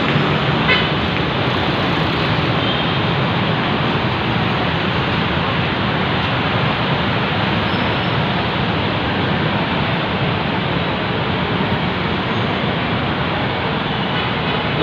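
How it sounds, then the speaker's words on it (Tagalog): Heavy, dense road traffic on EDSA in Cubao, Quezon City, a constant roar of engines with a car horn toot near the start, steady and loud throughout. "grabing traffic po ngayon dito guys"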